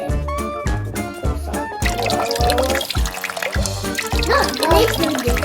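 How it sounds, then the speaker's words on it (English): Water pours and splashes into a container for a kids' sink-or-float experiment, a continuous trickling flow with bubbling gurgles, close and fairly loud, alongside periodic rhythmic thumps in the background. "Now we need to fill the water in the container."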